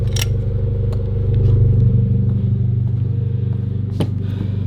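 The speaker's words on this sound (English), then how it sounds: "that cold start is loud." A 2022 Subaru BRZ with a REMARK axleback exhaust idles with a loud, deep, pulsing exhaust rumble after a cold start, with a few faint clicks.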